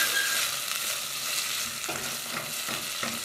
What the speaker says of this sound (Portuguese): Então, eu frito o bacon.